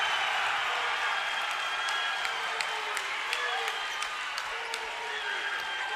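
Crowd noise from Liberty fans at a Lubbock-Cooper Liberty versus Estacado high school basketball game, a steady roar of applause and voices filling the gym throughout, with sneaker squeaks and faint sharp clicks.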